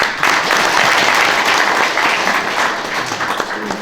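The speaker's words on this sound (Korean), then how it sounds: "여러분의 박수를 받고 싶습니다" A crowd applauds steadily, dense clapping filling the room for several seconds and easing slightly toward the end.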